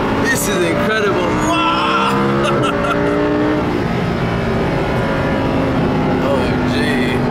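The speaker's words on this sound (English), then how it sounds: "Just listen to those brakes." A Lamborghini braking hard into a corner on a Dubai drive, tires squealing in a loud sustained screech over heavy engine and road noise, with excited voices talking over it.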